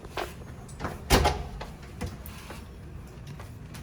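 A hotel room door in Tulum opens with a few clicks and knocks of the latch and handle, one sharper thud near the middle, fairly close over quiet room tone.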